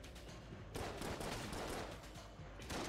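Blooper gun firing in the video game Enter the Gungeon, a dense burst of rapid cartoonish shots filling the clip, loud and close with no talking.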